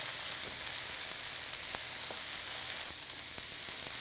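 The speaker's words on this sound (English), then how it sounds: "we've been stir frying this for about 3 minutes" Chicken and vegetables, including broccoli and carrots, stir frying in rice bran oil, a steady soft sizzle with occasional light clicks of stirring, no talk.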